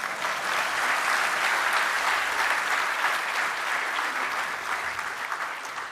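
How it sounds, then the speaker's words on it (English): Sustained audience applause fills a community gathering hall in Brisbane, a dense steady wash of many hands clapping at even loudness for the whole stretch with no voices over it. "I thought that would call for some applause"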